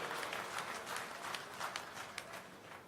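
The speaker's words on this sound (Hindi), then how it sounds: "एक बार आप जोरदार तालियों से माननीय हमारे रक्षा मंत्री जी का स्वागत और अभिनंदन करिए" A crowd at a statue-unveiling event in Merta, Rajasthan applauds to welcome the defence minister, with dense, continuous clapping at moderate loudness throughout.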